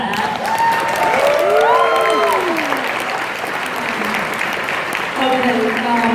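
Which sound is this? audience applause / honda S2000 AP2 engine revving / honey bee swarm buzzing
audience applause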